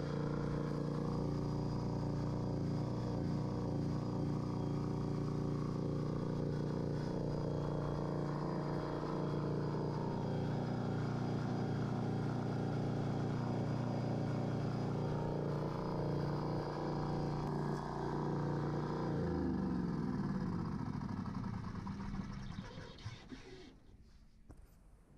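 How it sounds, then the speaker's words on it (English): A Kohler generator engine, fitted with fresh spark plugs, hums in a steady, loud mechanical drone for about twenty seconds before winding down and cutting out near the end. "I was pleased to see that the engine started up very quickly after a couple cranks"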